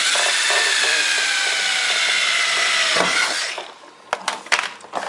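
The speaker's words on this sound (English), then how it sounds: "and then drill the hole." Power drill boring a hole through the rocker panel of a 1977 Chrysler Cordoba, a steady loud high-pitched whine for about three seconds that winds down and stops, followed by a few light clicks and knocks.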